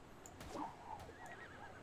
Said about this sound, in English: Okay, you little dumb horse.